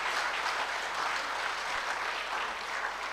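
A packed auditorium audience gives a loud, steady round of applause for a district collector, continuous dense clapping throughout with no talk.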